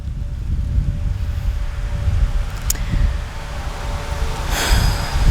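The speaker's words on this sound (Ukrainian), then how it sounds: "Так здійнялася така завірюха, отак все." Wind gusts during a snowstorm, a low rumbling buffeting against the microphone that swells and eases, with a brief hiss near the end.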